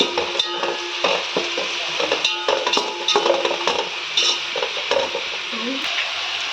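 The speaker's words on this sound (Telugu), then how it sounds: "కొంచెం వేగిన తర్వాత కరివేపాకు, కొత్తిమీర, పుదీనా వేసుకోవాలి. ఇవి కూడా కొద్దిసేపు మగ్గనివ్వాలి." Curry leaves, coriander and mint fry in a pan for mushroom biryani, giving a close, continuous sizzle broken by repeated clinks and scrapes of a spoon stirring against the metal.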